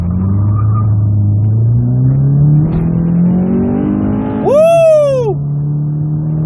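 A Honda Civic with VTEC, fitted with a new intake and exhaust, drones loudly at steady revs before climbing sharply in a quick rev that rises and falls back to idle, close to the microphone.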